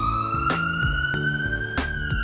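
A cartoon emergency alarm siren wails continuously in a rising, warbling tone with a pulsing low beat, loud and alone with no voices.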